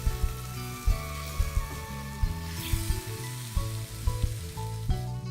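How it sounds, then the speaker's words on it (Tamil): Mutton pieces being sautéed in a pan (vaanali) to cook off their water for mutton chops: a steady sizzle broken by regular low thuds and scrapes of stirring, close and fairly loud. "மட்டனை எடுத்து தண்ணி சுண்டுறதுக்காக வாணலில் வச்சு இப்போது நான் வதக்கிட்டு இருக்கேன்"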